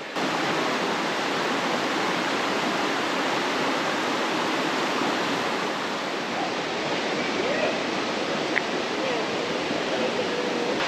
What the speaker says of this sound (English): there's a creek that runs down beside it